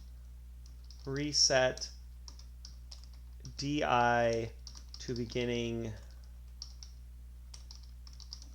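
Typing on a computer keyboard while working in BIOS boot-sector assembly, soft rapid key clicks under a man's speech and continuing faintly in the pauses.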